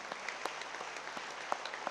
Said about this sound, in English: let's give our award winners for academic excellence a big round of applause for their achievement